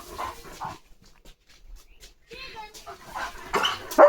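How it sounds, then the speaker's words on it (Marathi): A German Shepherd in an army-print winter jacket barks and whimpers at a puppy, giving short yelps and whines at close range, mixed in with people talking nearby. "लिओ भुंकतोय कारण लिओला दिसलंय इथं छोटं पप्पी"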